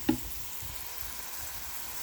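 Garlic and sofrito hit a hot pan with a sharp initial sizzle, then settle into a soft, steady frying hiss with faint stirring, close and quiet.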